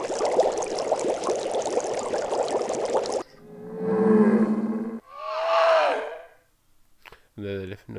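Strange alien creature noises from the game GTA V: a harsh, watery gurgling roar, then separate warbling, swooping calls and a short stuttering burst, each standing alone with gaps between them.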